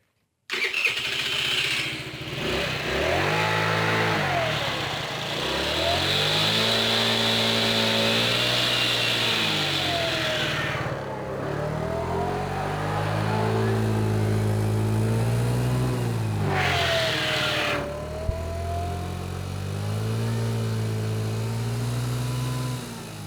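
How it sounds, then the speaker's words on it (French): A derestricted four-stroke scooter fitted with a variator for 80 km/h starts up, then revs repeatedly in rising and falling sweeps. It drops briefly to idle twice between the bursts, close and loud, with no talking. "je vais demander à mon collègue de démarrer son scooter"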